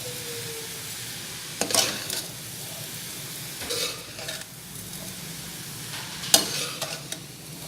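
Grated carrot halwa with cardamom and sugar stirred in a pan, with a low steady sizzle broken by a few sharp scraping strokes of the spoon, close and fairly quiet.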